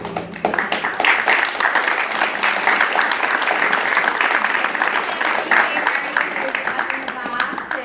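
A theatre audience applauds the musical accompanists at a student production of A Midsummer Night's Dream, dense sustained clapping filling the hall, with faint voices mixed in.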